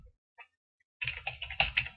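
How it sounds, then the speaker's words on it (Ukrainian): Keys clack on a computer keyboard as text is entered in Word, a brief tap or two then a steady run of close, crisp keystrokes filling the second half alone. "Під час уведення тексту з клавіатури символи з'являються на екрані а курсор переміщується вправо."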